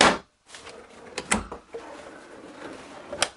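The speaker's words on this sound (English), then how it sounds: "This is a nice drawer, and I have them throughout." A storage drawer in a Forest River Berkshire motorhome slides open and shut, giving several close, sharp wooden rattles and knocks with a brief gap between them and a final clack at the end.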